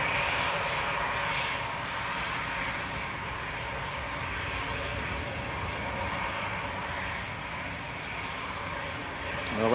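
Ryanair Boeing 737-800 jet engines lining up for takeoff at Manchester Airport, a steady, moderately loud engine roar with a continuous broadband rumble that holds even throughout, at some distance.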